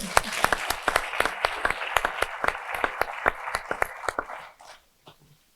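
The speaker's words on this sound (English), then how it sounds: "So let's give that a round of applause" Applause from an audience at a speakers panel, a dense patter of clapping with sharp individual claps that thins out and fades to near silence toward the end.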